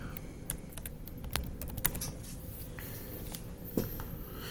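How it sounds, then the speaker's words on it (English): Keys tapped on a computer keyboard, irregular quiet clicks scattered over a steady background hiss, with a few sharper strokes standing out; no one speaks. "So we're gonna type that."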